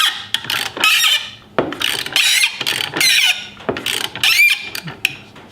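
Turning the screw of a work-holding vise, a series of dry ratcheting and squeaking mechanical clicks in irregular bursts, close up and fairly loud with brief pauses between turns.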